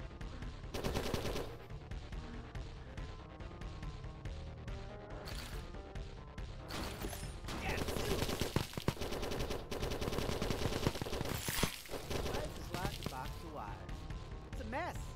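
A weapon fires repeatedly in the Bane Murrain game demo, rapid loud bursts and crashing impacts over a busy game soundtrack, with a person talking throughout.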